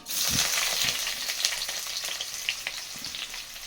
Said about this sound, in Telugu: అవి కొద్దిసేపు అలా వేగిన తర్వాత ఆనియన్స్ వేసేసుకుంటున్నా